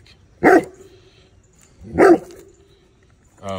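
A pit bull barks sharply at a snapping turtle, three loud, separate barks spaced well apart, close by, with a quiet outdoor background between them.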